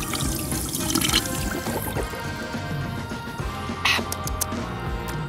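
A small park tap runs in a steady, close stream of water, with brief splashes and a louder spattering burst near the end, no talk over it.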